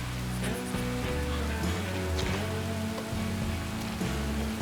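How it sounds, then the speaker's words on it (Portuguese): Rain falling over a valley in Red Dead Redemption 2, a dense steady hiss of raindrops on surfaces, close and continuous with scattered brighter drips, under a low ambient rumble and no speech. "Com a chuva caindo sobre todo o vale"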